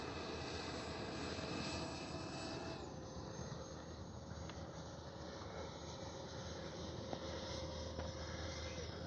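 A Freewing A-4 Skyhawk 80mm RC jet flies steadily overhead, its ducted-fan whine and broad roar continuous throughout, with a slight shift in pitch early on and no talking.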